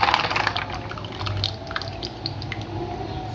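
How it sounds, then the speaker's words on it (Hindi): Raw mango sherbet, with sugar and mango pulp mixed in water, is poured over ice, giving a close, steady liquid splash with scattered drips and small crackles of ice, loudest at the start. "अब इसको मैं बर्फ में डाल रही हूँ।"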